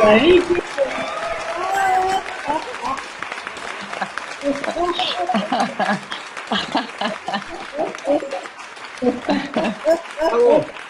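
Audience clapping at a motivational talk, rising and falling in bursts across about ten seconds, with voices and some laughter mixed in over the applause.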